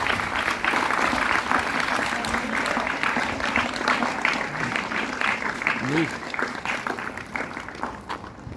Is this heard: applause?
yes